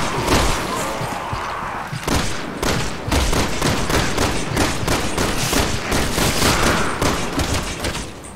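Heavy, loud gunfire in the video game Resident Evil 6, with rapid bursts of shots and thuds packed closely together, steady and near throughout, and no talking.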